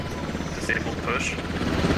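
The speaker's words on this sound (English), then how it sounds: "Why is our heli landing right there?" Helicopter landing in the Squad military shooter game, a steady rotor drone heard under players talking over team radio.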